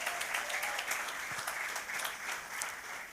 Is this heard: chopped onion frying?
no